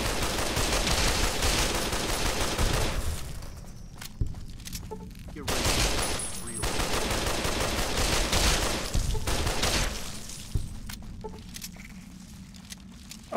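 Rapid bursts of gunfire from a worn gun in Fallout New Vegas, loud clustered volleys separated by short pauses, with scattered single shots toward the end.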